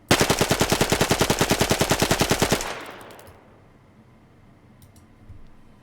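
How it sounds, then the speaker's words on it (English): Rapid automatic gunfire from a weapon in DayZ, a full magazine emptied in one loud, steady burst of about two and a half seconds, then a quiet tail with faint metallic magazine-change clicks. "Changing mags while empty, and a good old mag dump."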